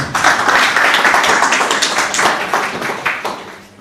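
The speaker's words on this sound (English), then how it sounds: "give him a round of applause" Audience applause at a spiritual retreat talk, loud close clapping that builds quickly, holds steady, then tapers toward the end.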